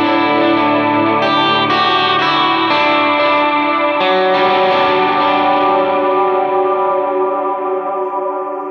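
Electric guitar played through a King of Tone overdrive model on a Line 6 Helix, with amp and effects giving loud, thick, slightly driven sustained chords that ring and slowly fade.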